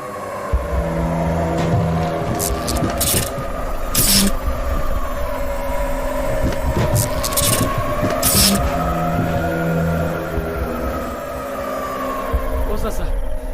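A car drives steadily with a continuous engine drone that rises and falls slightly in pitch, while people talk and shout over it in bursts, close and loud.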